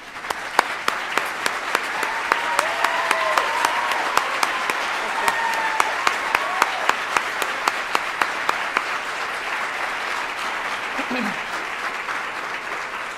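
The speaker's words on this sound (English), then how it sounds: "please stand so that we may give you a heartfelt round of applause" Warm, sustained applause from a crowd at a fall 2018 nurse pinning ceremony honoring servicemen and women, steady dense clapping with a few sharp individual claps standing out and faint voices underneath, gradually thinning near the end.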